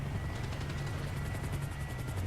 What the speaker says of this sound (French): Je suis protégé contre les hélicos.